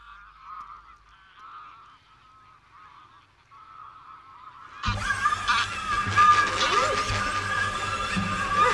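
Faint, distant goose calls at first, then a loud flock of geese honking and clamoring close by at the Villafáfila wetlands in Spain, many overlapping calls continuing steadily.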